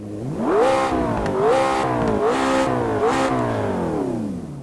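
A McLaren 720S GT3 racing car in the Automobilista 2 video game revs its engine repeatedly, with four rising-and-falling blips in steady rhythm, loud and close, with no other sounds over it.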